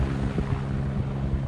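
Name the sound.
rescue helicopter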